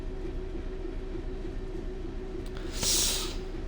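A DB Class 66 freight train, 4M93 from Southampton Western Docks to Trafford Park on the West Coast Main Line, passing with a steady low diesel rumble and engine drone, and a brief bright hiss toward the end.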